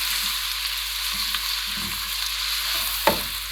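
Steady close sizzle of garlic frying in a pan, with a few soft scraping stirs and a brief clink near the end.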